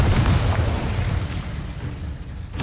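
A Confringo fire spell explodes in the video game Hogwarts Legacy with a loud, close blast. The deep, rumbling boom fills the clip and fades slowly, and a sharp burst starts again near the end.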